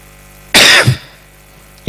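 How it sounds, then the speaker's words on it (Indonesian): A single sharp, loud cough close by, followed after a pause by a brief second throaty burst, with no talk over it. "Itu batuk."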